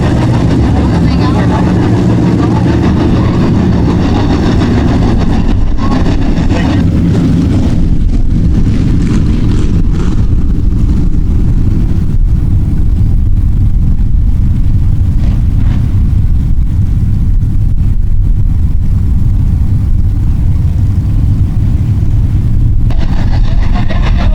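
Midwest late model race cars roar around the track during a heat race, a loud, continuous wall of engine noise that swells and fades as the cars pass, with an announcer talking over it.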